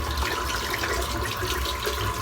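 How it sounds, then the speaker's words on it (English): Water splashing and draining as a shaving bowl is emptied into a sink, a continuous close pouring and gurgling sound with no talk. "I'm just going to empty the water out of this bowl just now"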